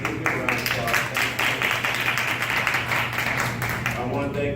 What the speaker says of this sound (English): And let's give you a round of applause